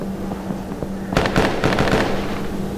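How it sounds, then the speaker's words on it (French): Bursts of rapid gunfire from the cooperative VR shooter Tactical Assault VR crackle in quick clusters after a quieter stretch, loud and close over a low steady hum. "je suis en train de tirer, t'es sur moi pendant que je tire"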